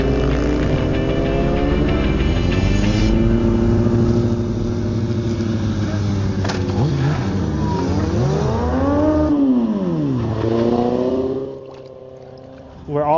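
Several bikers' motorcycles rev and ride past, with loud engine tones rising and falling in sweeping pitch changes, ending in a brief drop and a sharp rev near the end.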